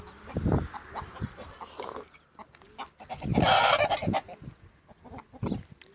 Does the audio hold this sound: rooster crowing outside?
yes